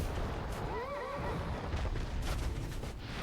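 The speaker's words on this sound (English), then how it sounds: "crystal horse, I'm not sure what it is" A crystal horse neighs in the video game Dark Souls II, a single wavering whinny near the start over a dense rumbling game backdrop, with no talk.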